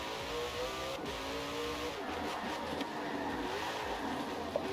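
The Koenigsegg Jesko hypercar in the racing game Forza Horizon 4 drones at a steady, fairly quiet level, its engine tone shifting slightly as it revs, with no talk over it.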